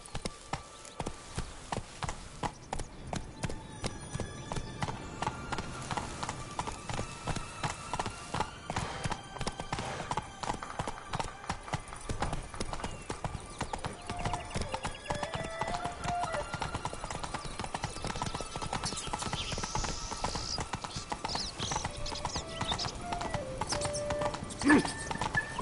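Geralt's horse Roach from The Witcher 3 gallops with rapid, rhythmic hoofbeats that run continuously and close up, with game music underneath.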